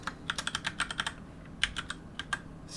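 Rapid, irregular keystrokes on a computer keyboard as a terminal command is entered while setting up a modded Minecraft server; a dozen or so close, crisp clicks in uneven bursts, with no talking.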